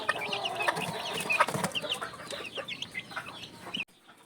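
A flock of laying hens in battery cages clucking and cackling steadily, many overlapping calls nearby, fading abruptly into near silence at the end.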